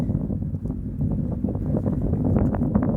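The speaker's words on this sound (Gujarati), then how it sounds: "ઠાઠી હવા આવે છે અત્યારે" Wind blows across a hilltop near Lakhagadh, buffeting the microphone with a steady, loud low rumble and gusty flutters that strengthen toward the end.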